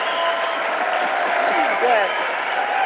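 Audience applause at the Pagani Utopia world premiere, a steady dense patter of clapping filling the room under a single spoken word.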